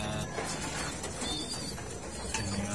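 Pigeons feeding together, giving soft low coos over a busy background of rustling and pecking, close by and continuous through the short stretch.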